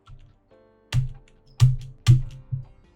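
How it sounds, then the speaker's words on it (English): A computer keyboard spacebar is smashed during a Magic Duels game, giving four or five sharp, close thumps spaced about half a second apart, each with a short rattle, with no talk. "That was the sound of me smashing my spacebar"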